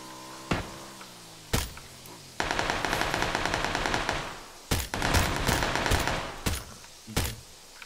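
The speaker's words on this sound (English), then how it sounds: "Oh, we're getting shot at." Gunfire in PUBG: several loud single shots spaced out at first, then sustained rapid automatic bursts with rattling repetition, followed by more scattered sharp cracks, close and dominant with no talk over it.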